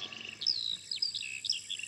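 Small birds chirp and tweet as a sound effect in a children's radio play, with a quick series of thin, high calls repeating over a quiet background.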